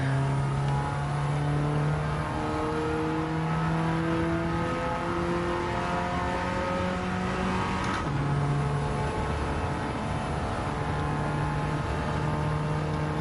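A turbocharged car revs in Gran Turismo 7, steady engine harmonics rising and climbing in pitch with a brief shift near the middle. The engine is loud and continuous with no voices.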